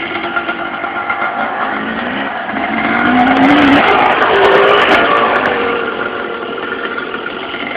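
A dirt bike engine revs during jumps, a buzzing motor heard from a distance that swells louder midway, then settles back.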